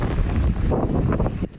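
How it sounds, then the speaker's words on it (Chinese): Strong typhoon wind at the seaside in Penghu, a loud, blustery roar buffeting the microphone with surging gusts and churning surf beneath, continuous and close. "雨愈来愈大，风嘛愈来愈透"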